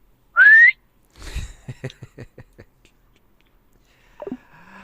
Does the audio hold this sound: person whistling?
yes